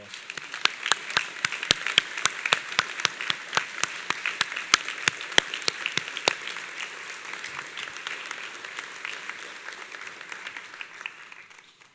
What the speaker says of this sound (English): let's give them a tumultuous round of applause